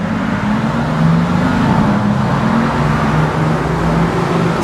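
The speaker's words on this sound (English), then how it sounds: "They're going off in the AMG." Mercedes-AMG car driving off from a closed filling station, a loud steady engine drone close by with continuous low rumble and road noise throughout.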